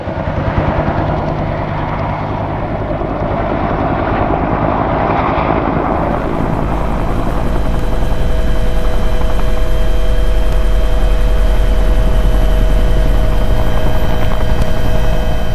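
A Bell Cobra helicopter hovers during an airshow display, its rotor and turbine producing a loud, continuous, heavy roar that holds steady and close throughout, with no voices.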